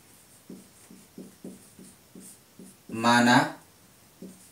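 A math solution being written on a board, a series of regular short chalk strokes at steady rhythm, interrupted midway by a brief loud voice.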